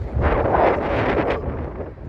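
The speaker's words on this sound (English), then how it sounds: "it's windy out here today" Gusty outdoor wind buffeting the microphone, a loud rushing roar that swells and eases over a couple of seconds, with no voices.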